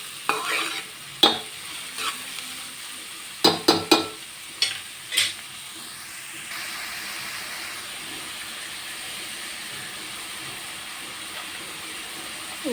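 Onions with beaten eggs, salted, cook in a pan: a spatula clacks and scrapes in a quick burst of sharp knocks, then a steady quiet sizzle carries on alone.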